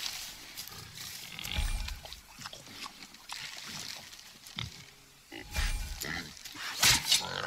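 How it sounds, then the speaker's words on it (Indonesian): Wild boar in the God of War video game grunting and snorting in several rough bursts over outdoor game ambience, with a louder grunt near the end. "Memang benar-benar babi."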